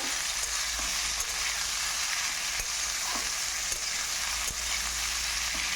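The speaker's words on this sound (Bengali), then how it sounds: "তেল এখানে গরম হয়ে গেছে এবার দিয়ে দেব আলু আলুগুলোকে একটু নাড়াচাড়া করে নেব" Potatoes sizzle steadily in hot oil in a pan for a Bengali vegetarian curry, a constant close hiss with a few faint clicks as they are stirred.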